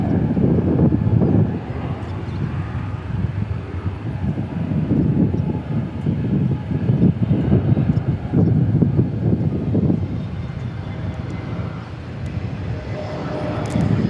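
Frontier Airbus A320neo jet at DFW Airport, a loud continuous low roar of engines rising and falling as the aircraft passes, with steady rumble throughout.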